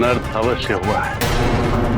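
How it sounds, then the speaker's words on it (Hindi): Ravana's mace lands with a loud, booming battle impact partway through, a sudden broadband crash that rings on beneath a person's anxious speaking voice. "ये तो दशानन की गदा की ध्वनि थी स्वामी"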